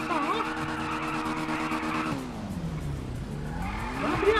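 Car tires screeching in the game GTA V, a long sliding squeal over a steady engine drone with voices talking, the pitch sweeping down and back up before the engine rises again.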